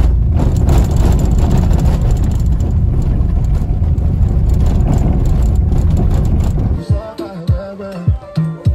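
A car driven along a road in Mogoditshane with the handbrake left on, a loud steady engine and road rumble that drops away near the end to a few thumps and clunks.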